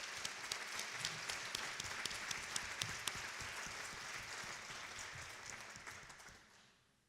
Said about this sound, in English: Let's give our panel a warm round of applause.